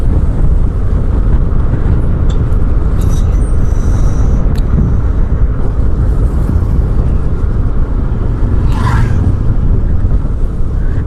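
A motor vehicle ridden along an empty road early in the morning gives a loud, close, continuous engine rumble mixed with wind buffeting, with a brief higher whine rising near the end.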